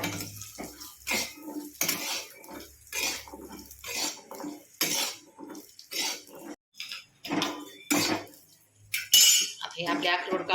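Walnuts sautéed in a pan for dink dry-fruit laddoo, heard as repeated rattling scrapes and clinks of a spatula against the metal pan in uneven bursts separated by short pauses; no talking.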